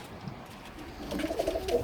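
Soft, low pigeon cooing, faint and fairly distant, rising in a short run toward the end.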